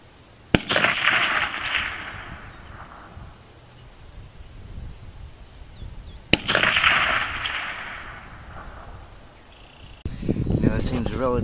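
Two loud rifle shots fired at a target with a clean bore, each a sharp crack followed by a long rolling echo across open ground, spaced about six seconds apart, with rustling near the end.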